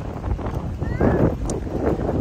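Strong outdoor wind buffeting a phone microphone, a continuous rumbling roar with gusts that rise and fall, close and loud throughout.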